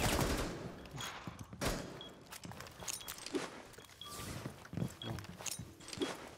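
Rapid gunfire bursts from a competitive online first-person shooter match, sharp cracks and short volleys scattered through the clip at close range, mixed with footstep-like clatter and a faint voice reacting.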